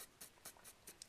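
Colored pencil lightly shading on paper, a series of soft, quick scratchy strokes in an uneven rhythm, close and very quiet with no talking.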